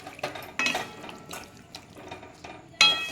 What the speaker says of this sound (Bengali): এবার আমি একটু উষ্ণ গরম জল দিয়ে দিলাম